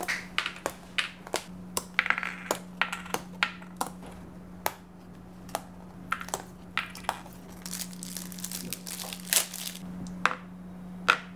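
Round cardboard pieces are punched out of an Animal Crossing Monopoly-style board game sheet one after another: sharp, quiet pops and snaps at an irregular pace over a steady low hum, with no talking.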